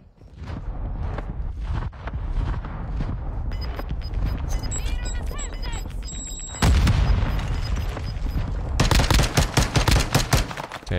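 Sharp, loud pistol shots ring out in a Call of Duty Warzone Gulag fight, several distinct reports mixed with other game gunfire and effects, rising to a dense burst near the end.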